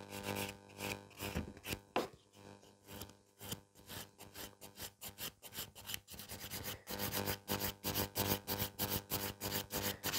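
A file rasps back and forth over a gel nail, reshaping and blending it into the natural nail in quick regular strokes, close and steady with no talk.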